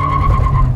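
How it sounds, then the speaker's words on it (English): A 2019 Subaru BRZ RAIU Edition squealing its tires under hard driving, a loud steady screech over the engine's low rumble, close and continuous for under a second. "Lots of tire squeals"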